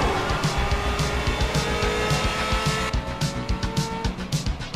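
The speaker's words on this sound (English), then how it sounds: "A Lambo. Or is that a Ferrari?" Sports car, a Lamborghini or Ferrari, from the Kung Fury film: a loud, sustained engine roar with a steady pulsing rhythm and a tire squeal or skid, close and continuous, no talking.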